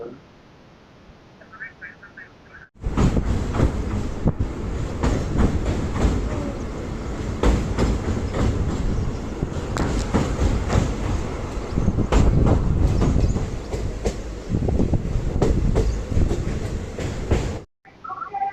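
Train 07221 from Hyderabad to Kolkata rumbles along steadily with rhythmic wheel clatter, loud and close, starting suddenly after a quiet moment and cutting off near the end.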